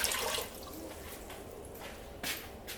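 Tap water splashing and pouring into an empty cooking pot for spaghetti, a steady broadband rush with a louder burst near the end, close and alone without talk.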